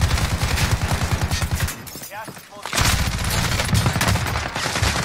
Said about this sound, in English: They're shooting, guys.